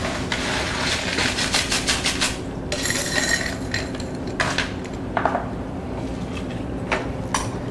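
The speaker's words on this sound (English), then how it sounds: "we're going to shake all these ingredients together" Cocktail ingredients rattling inside a shaker, heard as bursts of loud, close clattering, with ice and metal knocking in quick shaking rhythm.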